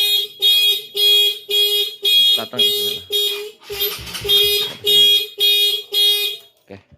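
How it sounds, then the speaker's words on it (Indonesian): A Honda CRF 150L motorcycle's anti-theft alarm blares in loud, rhythmic electronic pulses, about ten bursts in a row, with someone speaking briefly partway through. "5 detik alarm berbunyi,"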